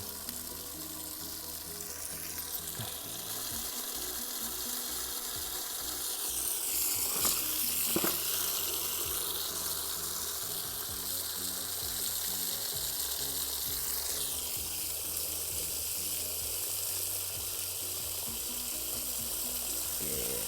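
Well water pours steadily into a container filled for soaking yang na tree seeds, a continuous close splashing and gurgling stream that rises slightly in pitch as the vessel fills, with no voices over it.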